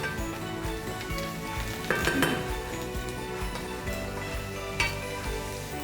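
Butter, thyme, onion and garlic sizzle steadily in a pan, with occasional clinks of a utensil against the metal and a brief busier stir near the middle.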